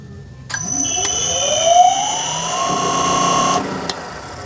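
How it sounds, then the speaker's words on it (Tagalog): A conveyor motor driven by a Delta variable frequency drive starts up with a steady electrical whine that rises smoothly in pitch as it speeds up, holds briefly, then cuts off. "Gagana ang motor."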